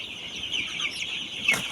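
Sonali chicken chicks cheep and cluck nearby, a thin series of high chirps over a faint steady background.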